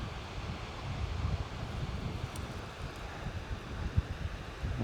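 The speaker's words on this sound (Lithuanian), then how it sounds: "Jūra." North Sea shore by the dunes: a continuous rushing blend of surf and gusting wind buffeting the microphone, fairly faint and even, with no voices.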